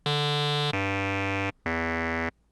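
Three bright, buzzy psytrance lead notes from a Serum synthesizer using a liquid wavetable oscillator and band-pass filtering, played in succession, each sustained evenly before cutting off, with a brief gap before the last.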